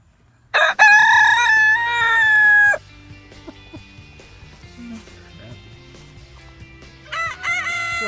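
A pastured barnyard mix rooster crows loudly and close by, one long drawn-out call, followed by softer farmyard sounds and the start of a second crow near the end.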